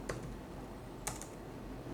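Quiet, sparse keystrokes on a computer keyboard as a card number is entered, a few soft clicks spread over about two seconds against a low steady background hiss.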